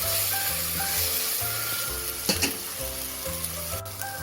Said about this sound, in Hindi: सबसे पहले हम अदरक लहसुन का पेस्ट डाल के थोड़ा सा भूनेंगे इसको 1 मिनट तक